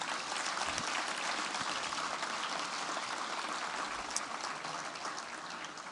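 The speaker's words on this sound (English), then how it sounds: "let's give them a round of applause" At the AHEPA National Banquet, a large audience gives steady, dense applause for veterans receiving a military award, an even wash of clapping that holds throughout with no break.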